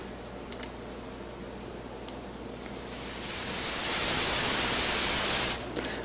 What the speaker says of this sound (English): it's got the test oscillator with actually white noise playing. And that's just constantly going